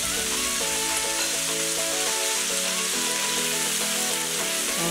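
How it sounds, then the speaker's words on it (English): Vegetables for a mixed vegetable pickle sauté in a hot pan, giving a steady, dense sizzle that runs unbroken and fairly loud from start to finish, with no voices over it. "Saute it together very well"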